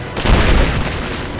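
Gunfire erupts in a mine during a Rise of the Tomb Raider firefight, a short loud burst of overlapping shots over a dense rumbling din.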